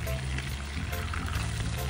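Fish sizzling in hot cooking oil in a home kitchen, a steady close crackling fry that continues without a break for the whole short moment.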